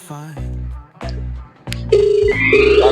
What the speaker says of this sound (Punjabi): ਬੈਲ ਤੇ ਯਾਰ ਜਾਂਦੀ ਪਈ ਆ ਫੋਨ ਕਿਉਂ ਨਹੀਂ ਚੁੱਕਣ ਦਿਆ